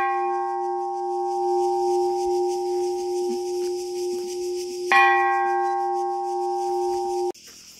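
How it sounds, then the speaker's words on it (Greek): A bell at a hilltop tourist site in Rifi, Kefalonia is struck twice, a few seconds apart, each strike ringing out with a loud, clear, sustained tone before it is cut off. "Εδώ η καμπάνα, πάμε να δούμε πόσο δυνατά θα ακουστεί."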